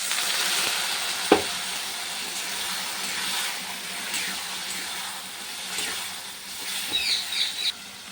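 Ground spices fry and sizzle in a pan of browned onion with salt and turmeric for a fish roe curry, a steady close hiss broken by a sharp clack near the start and scraping stirs toward the end.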